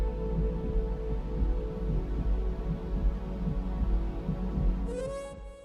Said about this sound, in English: the most poignant is the very human sound of a heartbeat